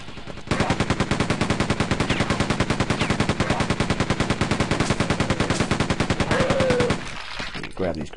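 Rapid, evenly spaced explosive bursts of grenade fire in Quake 2, a dense loud volley lasting several seconds before cutting off.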